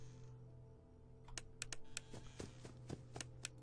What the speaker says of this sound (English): I'm pressing the keyboard pretty loud